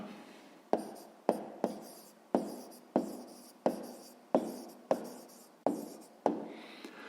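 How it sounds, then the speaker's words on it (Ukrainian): Pen strokes writing a math answer for a sixth-grade area and perimeter exercise, a series of about nine short scratchy marks in an irregular rhythm, close and fairly soft, with no talking. "Записуємо відповідь."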